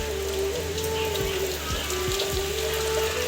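Rainwater leaks through the roof of a village house and drips into buckets, a steady wet patter with a few distinct drips over a constant low hum, close by, with no talking.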